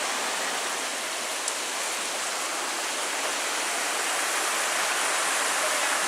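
The Cadence River rushes steadily beside the Superior Hiking Trail near a bridge, a dense, unbroken broadband roar of flowing water that stays loud and even throughout with no voices.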